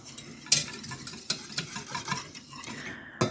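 Cocoa powder whisked into melted butter for a homemade chocolate cake, a close, steady scraping and stirring against a bowl with a few sharper clinks of the whisk.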